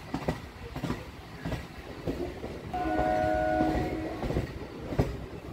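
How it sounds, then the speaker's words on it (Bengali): Kolkata local train on the Sealdah–BBD Bag route, heard from aboard as it rumbles and clatters over the tracks and crosses from one line to another, with a sustained horn sounding midway. "2 নম্বরকে ছেড়ে ট্রেন ঢুকছে 3 নম্বর লাইনে।"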